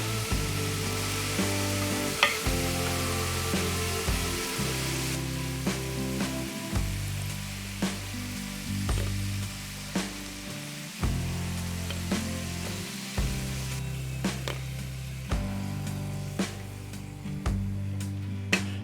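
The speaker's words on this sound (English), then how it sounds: "Now the plantain is golden brown. It's time to remove the plantain from the oil." Plantain slices frying in hot oil, with a continuous dense crackling sizzle and faint scattered pops and taps across the full length, steady and close, no talking.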